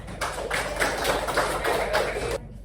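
A classroom of students applauds together for about two and a half seconds, a dense, steady patter of claps at moderate distance that stops abruptly.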